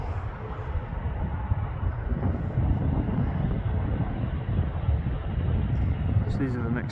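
TUI Boeing 737 jet rumbling steadily at Manchester Airport, a broad continuous roar with wind buffeting, heard from a viewing park with a voice speaking over it.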